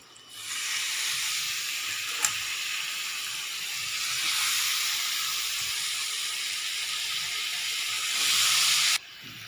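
Washed moth beans (matki) hit hot masala in a pan, setting off a loud, steady hiss that holds for several seconds, swells near the end, then cuts off abruptly, with no voices.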